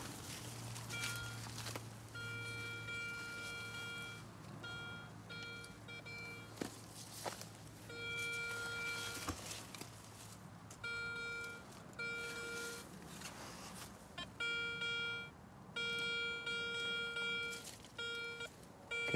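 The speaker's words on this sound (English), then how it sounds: "Okay, so we're getting a lot of beeps" Repeated electronic beeps from a metal detector in short bursts, some steady and some rapid, over outdoor background noise in a yard in Denmark with occasional rustling.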